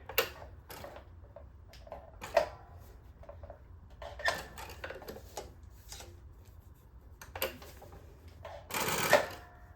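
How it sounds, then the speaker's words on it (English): A sewing machine stitching a paper bag: short bursts of close, rapid mechanical clatter separated by pauses, with one longer, louder run near the end and faint ticking between. "I'm not very good at manipulating turns on my sewing machine"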